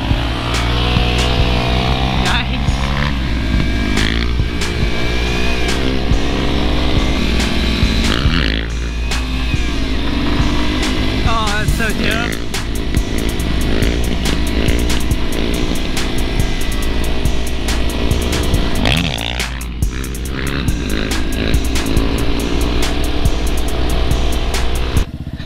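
A dual-sport supermoto motorcycle drones loudly from up close on a night ride, its engine pitch climbing and dropping through gear changes, with steady wind noise and occasional brief dips.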